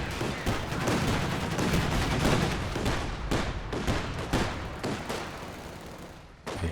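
Half-track gunfire in Company of Heroes 2: dense, rapid bursts of machine-gun fire with scattered heavier shots, loud and continuous before thinning into separate cracks near the end.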